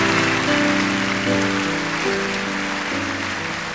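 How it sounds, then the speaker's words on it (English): Congregation applause at a church concert, a steady wash of clapping that fills the room over sustained organ-like music notes throughout. "Give God a good round of applause"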